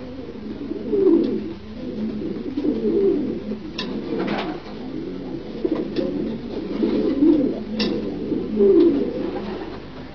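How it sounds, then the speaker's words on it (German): Domestic pigeons coo steadily at a pigeon loft, several soft throaty calls overlapping in a continuous, close murmur with repeated rolling phrases and a few brief sharper sounds. "Gabi hat für uns seine erste Taube vom Schlag geholt"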